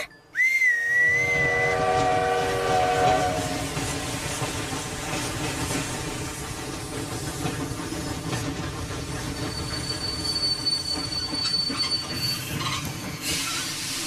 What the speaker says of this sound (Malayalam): ഈ ട്രെയിൻ ഇവിടെ 2 മിനിറ്റ് നേരത്തേക്ക് മാത്രമേ നിർത്തുകയുള്ളൂ.